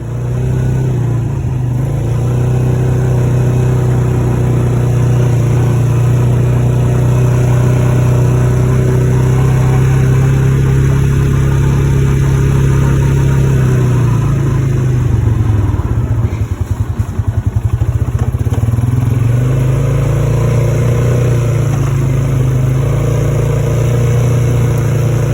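A 2021 Polaris Sportsman 570 ATV fitted with an electric power steering kit drives down a street, its engine droning loudly and steadily, easing off and dropping in pitch midway before pulling again.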